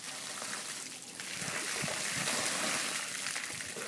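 Cold water pours over a person in a steady, splashing stream for a few seconds, close and fairly loud, rising in the middle and easing toward the end.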